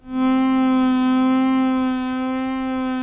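A sustained Ensoniq ESQ-1 pad tone with rich buzzy harmonics, slightly wavering and detuned, holding loud and steady before easing down a little near the end.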